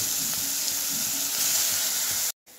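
Mashed green peas hit hot oil in a kadai seasoned with black cumin and sizzle loudly and steadily up close, then cut off abruptly near the end.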